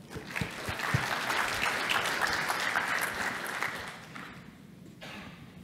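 A keynote audience at Linaro Connect Vancouver 2018 claps to welcome a speaker, full, even applause from a large hall for about four seconds before thinning into scattered claps and quiet.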